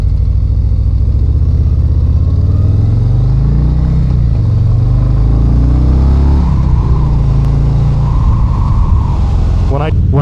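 Harley-Davidson Breakout cruiser motorcycle, a 2025 model ridden in road mode, with a steady loud engine drone and low rumble while riding, rising in pitch near the end, under continuous wind noise and talk.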